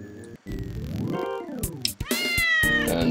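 A cat in the video game Worlds meows loudly and repeatedly, drawn-out wavering cries close up, with a brief click and a pause before a final rising meow.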